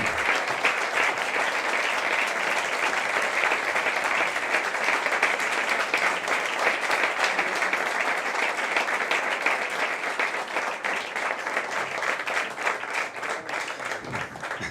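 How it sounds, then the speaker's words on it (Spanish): An audience at an event with Javier Milei gives sustained applause for Karina Milei, a dense even wash of clapping that holds steady and slowly tapers, with no talk over it. "para quien pido un fuerte aplauso"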